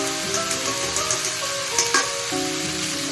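Coriander powder and Kashmiri chili powder fry in hot oil for a cauliflower curry, making a loud, continuous sizzle and crackle with occasional stirring scrapes and no voices.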